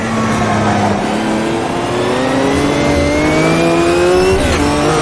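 Race car engine in Automobilista 2, loud and continuous, its pitch climbing steadily, then a sharp shift near the end with a brief blip. No voices are heard.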